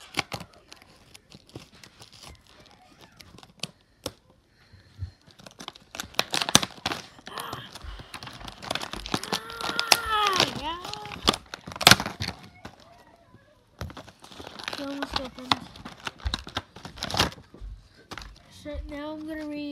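Cardboard and plastic packaging of a Fortnite Drift action figure being torn and crinkled open by hand, with bursts of ripping and rustling, close and fairly loud, and scattered talk in between.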